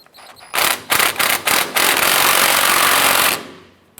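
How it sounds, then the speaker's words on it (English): A power tool tightens the horizontal motor mount bolt on a 1994-2004 Chevy S10 engine, giving loud close bursts of rattling impact hammering that settle into one sustained buzzing run before cutting off. "Let's go ahead and tighten up our horizontal motor mount bolt."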